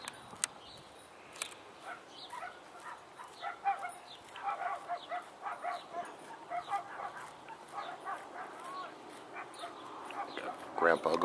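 Small dogs barking, yipping and whimpering in bursts fairly close, with a person talking over them.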